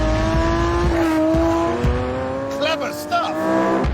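A supercapacitor hybrid car brakes hard into a corner and then accelerates out the other side, its engine note rising and shifting with tyre noise, loud and steady under a voice.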